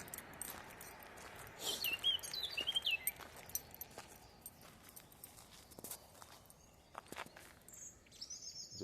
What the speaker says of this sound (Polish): tu jesteś taki ćwierkający ładnie.